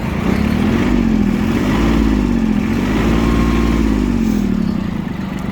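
A Mitsubishi MT241 mini tractor engine runs steadily at a low, even idle, loud and close, with a gentle wavering rise and fall in pitch and no talking.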